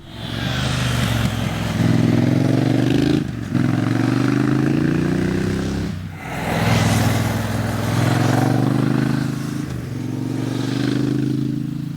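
A 2025 Triumph Speed Twin 1200 motorcycle's 1200cc Bonneville engine chugs at low revs, its deep throb rising and easing in several long pulls with brief gaps between.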